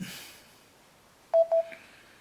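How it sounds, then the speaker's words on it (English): A phone being silenced gives two short, clear keypad beeps and then a fainter third tone, close by in a quiet room, with no talking. "I'm going to silence this phone"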